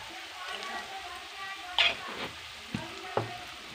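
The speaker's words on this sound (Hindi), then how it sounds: "धीमे आँच पे धीरे धीरे जब तक ब्राउन नहीं हो जाता इसको फ्राई कर लेते हैं" Poha ingredients with asafoetida fry on a low flame, a soft steady sizzle with a few light clinks of a stirring spoon, faint and close, with speech alongside.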